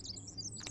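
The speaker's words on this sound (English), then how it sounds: "Oh, there's birds in here." Brief high bird chirps and tweets in the survival video game The Forest, a couple of quick calls over a steady low ambient game hum, fairly faint.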